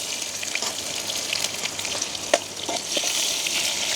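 Mustard, fennel and fenugreek seeds fry in hot oil with a close, continuous crackling sizzle, scattered pops and the odd stirring clink, and nobody speaks.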